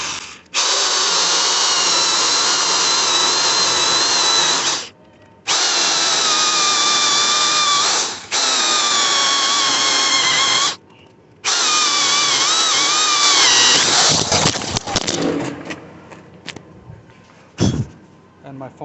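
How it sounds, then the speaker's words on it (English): Power drill cutting a giant wooden candy cane shape, whining loudly in four sustained bursts separated by short pauses, then trailing into clattering handling noises, with a person talking briefly. "you need a good drill to do this"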